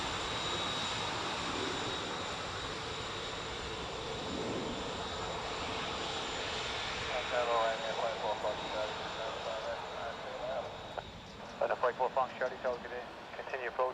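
ATR turboprop arriving at Dublin Airport, a faint steady engine drone in the distance, with radio chatter and talk cutting in over it toward the end.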